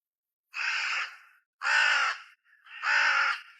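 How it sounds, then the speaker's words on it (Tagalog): A crow caws loudly three times, each harsh call lasting about half a second and separated by short silences. "Isang malakas na huni ng ibon ang narinig namin."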